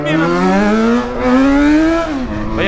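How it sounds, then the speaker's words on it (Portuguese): A Yamaha XJ6 motorcycle engine revs hard and loud during a wheelie, its pitch climbing steadily for about two seconds before dropping off sharply as the throttle is released. "Aí a moto empinando sozinha."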